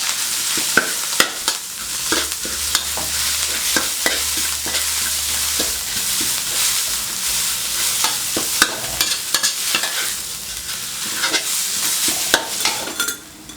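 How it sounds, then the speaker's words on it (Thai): Roasted chili, garlic and shallots stir-fry in hot pork lard for pork chili paste, a continuous close sizzle with frequent scraping strokes and clinks of the spatula against the pan. "ใส่ลงไปแล้วก็ พริก กระเทียมแล้วก็หอมแดงที่เราคั่วไว้นะครับเอาลงไปผัดเลยนะครับผัดให้สุกเลยนะครับ"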